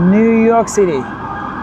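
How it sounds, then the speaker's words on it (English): A police siren wailing on a Manhattan street in New York City's Upper East Side, loud and close, its rising and falling pitch sweeping under a man's brief speech. "you have the police, the sirens"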